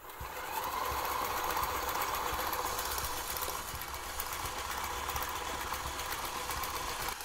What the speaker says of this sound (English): Now we're gonna add our sugar. Let's go ahead and mix that.